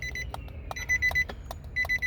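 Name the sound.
beep from 2007-2013 Nissan Altima BCM when key pushed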